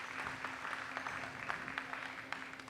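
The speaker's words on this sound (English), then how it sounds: "So let's give Eric a big round of applause." A crowd applauds a guest glass artist at a live glassblowing demonstration. The clapping is soft and fairly distant, with a steady low hum running underneath.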